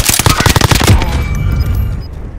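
Rapid gunfire in Call of Duty: Modern Warfare, a loud, close burst of automatic shots cracking in quick succession, then ending in a rumbling tail with faint electronic tones.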